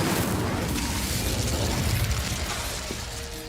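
An Incendio fire spell effect erupts as a loud, dense roar of crackling, whooshing flame, sustained steadily for several seconds and easing slightly toward the end, with no voices.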